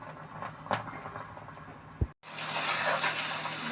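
Green beans that were towel-dried are dropped into hot oil. Faint kitchen noise gives way to a sudden loud, steady sizzle after a short silent gap.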